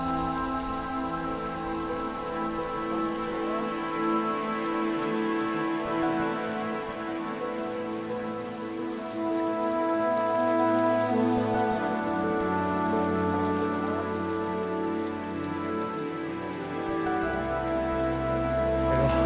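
Light rain falls steadily outdoors in La Cañada de la Malinche, Tlaxcala, a soft continuous patter on surfaces with no voices, its level even throughout.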